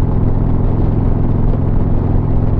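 Vehicle engine humming steadily at about 2500 RPM while cruising at highway speed, a loud constant low rumble with road noise inside the cab and no talking.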